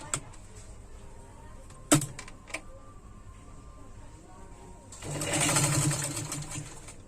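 Sewing machine stitching a lehenga, a soft low hum with a few sharp ticks early on, then a louder, denser burst of running stitches near the end.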